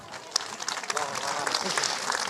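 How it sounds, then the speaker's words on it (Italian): Applause from an audience at a live folk dance event in Nule for Tiziano, soft scattered clapping that builds under a crowd murmur. "Un applauso per Tiziano."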